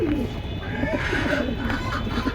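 Agro-breed pigeons kept for sale coo in a low, rolling, continuous murmur close by, with a faint voice in the background.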